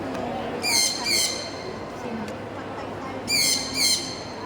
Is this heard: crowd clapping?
no